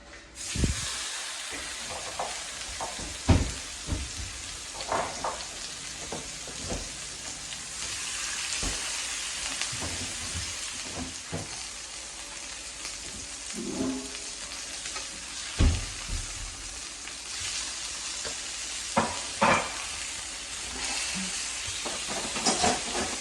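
Food fries steadily on a wood-fired griddle slicked with oil, a continuous hiss that runs the whole time, with occasional scrapes and knocks from utensils rising above it.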